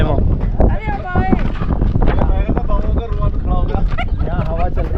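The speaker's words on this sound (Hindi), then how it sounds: "यहाँ पे हवा चल रही है, बहुत ठंडे।" Cold wind gusts against the microphone outdoors in the mountains around Madinah, a loud, rough buffeting roar with people talking over it throughout.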